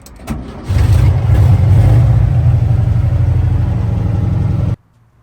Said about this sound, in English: And we're out in the hot rod.